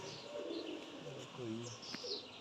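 Pigeons cooing in a home courtyard, soft low coos repeating in short phrases with a few higher chirps, moderately close, while people talk quietly nearby.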